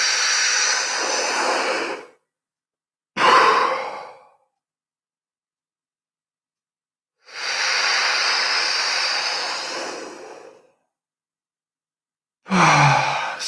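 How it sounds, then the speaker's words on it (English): Hyperventilation breathing exercise done before long breath holds: two long, loud rushing breaths, each followed by a shorter sharp one, separated by silent pauses, close to the mic with no talking. "So let's begin our hyperventilation."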